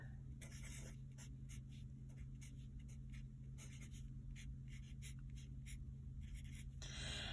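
Handwriting with a pen or marker during math notes, quick scratchy strokes in a steady series over a constant low hum, faint and close.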